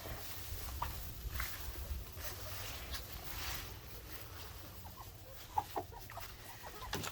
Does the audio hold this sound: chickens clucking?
yes